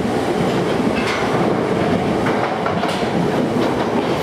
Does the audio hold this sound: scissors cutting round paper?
no